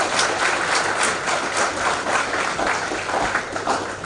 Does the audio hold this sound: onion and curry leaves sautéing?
no